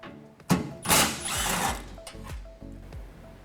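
A 10mm socket on a tool spins heat shield bolts loose on a 2019 Ford Ranger, a close rapid ratcheting whir followed by several short repeated bursts.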